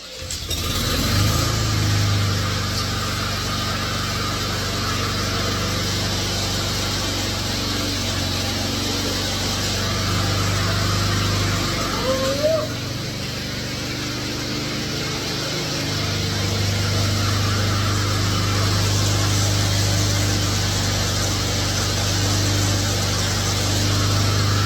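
Small engine of a Honda self-propelled lawn mower running steadily after a carburetor cleaning, a constant close, loud drone with a brief dip midway before settling back to an even idle.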